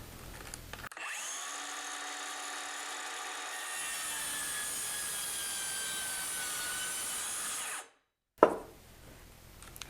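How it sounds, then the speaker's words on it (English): A power saw plunges its spinning blade slowly down into wood, a loud steady cutting whine that holds for about seven seconds, then cuts off and is followed by a short clatter. "you're going to slowly lower the turning blade into the material until it cuts right through"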